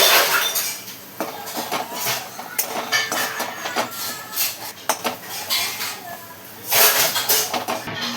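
A metal lid clatters onto a cooking pot of spring onion curry amid close clinks and scrapes of cookware, with a louder clank late in the sequence.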